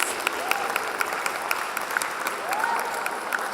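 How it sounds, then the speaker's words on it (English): Applause from a school event audience for competition participants, a continuous even wash of clapping with scattered sharper claps, moderately loud and steady throughout. "let's give a big round of applause to all the participants"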